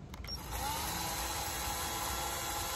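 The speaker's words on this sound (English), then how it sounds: "take your sandpaper, hold it, and literally run the drill." Power drill running at steady speed with sandpaper held against it to polish metal, a continuous whirring grind that starts after a brief moment and holds loud and close throughout.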